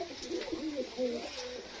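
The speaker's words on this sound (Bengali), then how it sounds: "এখানে দেখতে পাচ্ছি এই পায়রাগুলো সব মারপিট করছে খুব" Several pigeons coo in overlapping, rising and falling calls close by on a rooftop, with some scuffling agitation as they fight, against a faint background hum.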